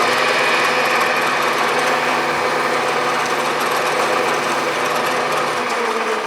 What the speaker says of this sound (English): Now I will ream 1/4, the balance of that hole.